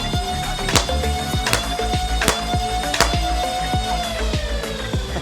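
A motorized Modulus Strife foam dart blaster with a 4S Stage 4 upgrade and a Hellfire magazine fires darts in a rapid string of sharp snaps, evenly spaced, over the constant whine of its spinning flywheel motors, close and loud.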